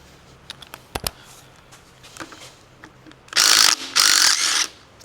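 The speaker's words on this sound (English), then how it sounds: "I guess I'm just going to start taking these bolts off." A ratchet wrench loosens bolts on a small 300 engine being torn down, with a few sharp clicks early on followed by two loud, sustained bursts of rapid ratcheting up close.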